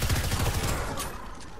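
Rapid automatic gunfire from the video game Fortnite crackles in a dense, loud burst that fades slightly toward the end, with no voices over it.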